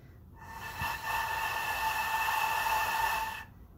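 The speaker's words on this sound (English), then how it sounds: "If you are blowing too straight instead of down, you might get a sound that sounds like this." An airy, breathy flute tone from air blown too straight across the embouchure hole, a hissy rush with faint pitched overtones held steadily for about three seconds, close and alone.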